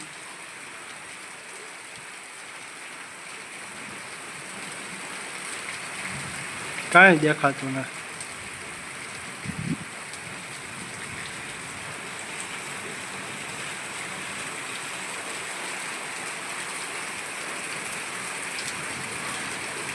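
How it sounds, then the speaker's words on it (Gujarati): Steady morning rain falls on the ground and nearby surfaces with an even, continuous patter. Someone speaks briefly partway through. "હવાર હવારમાં વરસાદ થઈ ગયો"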